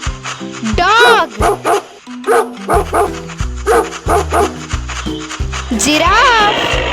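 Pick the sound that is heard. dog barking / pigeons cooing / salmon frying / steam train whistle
dog barking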